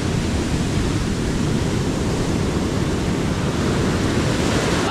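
Heavy ocean surf during a typhoon roars as a dense, continuous wash of breaking waves, loud and close, with no talk.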